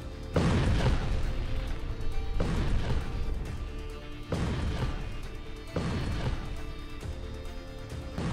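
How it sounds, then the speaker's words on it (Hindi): A Turkish super bunker buster bomb strikes a concrete target. Heavy booming blasts land in a repeating series about every one and a half seconds, each a loud broadband roar that decays, with no voices. "तुर्की का यह super bunker buster bomb 7 metre की कंक्रीट को भेद कर आगे बढ़ता है और फिर धमाका करता है।"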